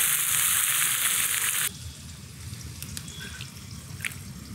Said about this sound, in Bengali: একটু নাড়াচাড়া করে দিই।